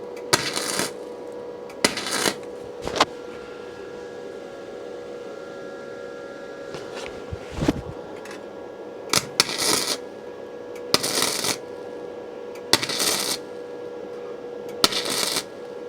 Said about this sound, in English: You do it in little pulses like that. That's putting a good weld in.